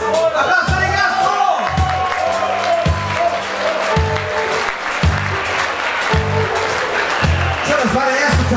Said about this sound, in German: Applaus für die Gastro!